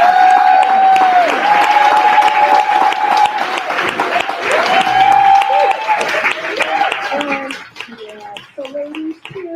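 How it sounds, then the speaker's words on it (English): Audience applause for women being celebrated for courage, steady and full at first with a sustained whistle-like tone and cheering layered over it, then thinning out toward the end. "So ladies, please give them a warm round of applause"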